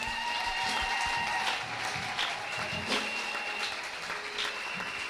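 A church congregation at a Sunday service applauds to acclaim Jesus, a dense, steady wash of clapping sustained for about five seconds at fairly even loudness, with faint voices mixed underneath.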